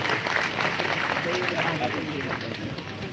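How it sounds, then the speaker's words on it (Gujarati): Steady applause from a crowd at a school principals' convention, welcoming a guest speaker, continuous clapping under a loud voice talking over it. "મિત્રો તાળીઓના ગણગડાટથી સ્વાગત કરીએ છીએ"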